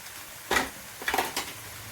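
Puff puff batter is stirred in a bowl, giving a few close clinks and scrapes of utensil against the bowl in three short bursts over two quiet seconds.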